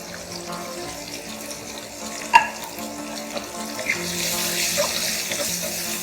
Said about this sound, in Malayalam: ഇതെല്ലാം കൂടെ ഒന്ന് മിക്സ് ചെയ്തിട്ട് സവാള ഒന്ന് സോഫ്റ്റ് ആവുന്ന വരെ നമുക്കിതൊന്ന് കുക്ക് ചെയ്തെടുക്കാം